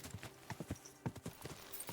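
Horse hooves clop quickly and unevenly on a hard surface in the video game Kingdom Come: Deliverance 2, a quiet, steady trotting rhythm with faint background noise.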